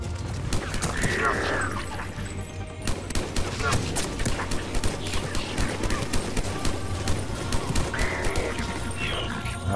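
Weapons fire rapidly in the video game Mass Effect, rattling off dense bursts of sharp gunshots with a fusillade that runs continuously throughout, loud and close, along with other game effects.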